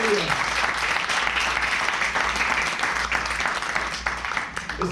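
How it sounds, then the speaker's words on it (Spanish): Church congregation giving loud, sustained applause for the King, a thick continuous roar of clapping with cheering voices throughout. "Denle un aplauso al Rey."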